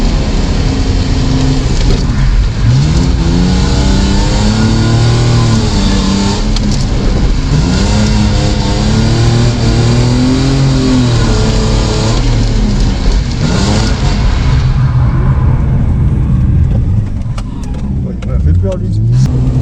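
BMW E30 drift car at a drift event, engine revving and wailing through rising and falling pitch sweeps as it slides, loud and close, easing off toward the end.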